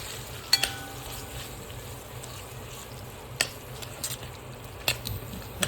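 Khoa (milk solids) roasting and being stirred in a pan over low heat, a quiet steady sizzle with a few sharp scrapes and taps of the spoon spaced seconds apart, close with no voices.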